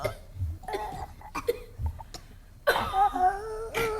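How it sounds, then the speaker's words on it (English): Children cough on cue in a group, with a scatter of separate coughs and throat clears and then a louder cluster of overlapping coughs and chuckles toward the end. "y'all are coughing"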